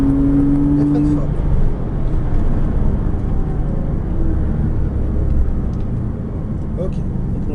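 A Porsche Cayman S at full throttle on the Chenevières race circuit, a steady loud engine drone with a rising tone, heard from inside the car while someone talks over it.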